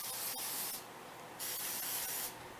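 Two short bursts of aerosol cooking spray hissing close by, separated by a brief pause.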